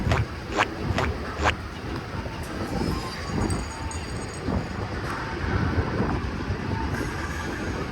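A train passing along an elevated line in a Japanese town, with a few sharp metallic clacks at the start giving way to a sustained rolling rumble of carriages and faint wheel squeal, fairly close and unaccompanied by voices.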